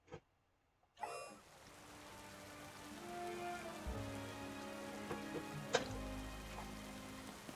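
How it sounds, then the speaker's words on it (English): Rain in the video game Pokémon Legends Z-A, a steady soft patter of drops with occasional ticks and faint tonal game sounds layered over it, no talk. "We're in the middle of the rain"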